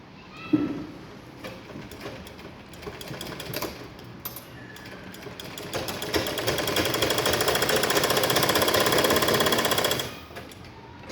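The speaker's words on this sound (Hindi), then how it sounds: "अब हमने ये जो हमारी ये क्रॉस पट्टी है ना, इस पर हम सिलाई लगाएंगे।" A sewing machine stitching a cross patti strip on a blouse, starting with scattered clicks and short runs, then building into a loud, steady, rapid stitching hum for several seconds before stopping abruptly.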